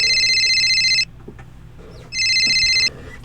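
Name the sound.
phone ringing with incoming call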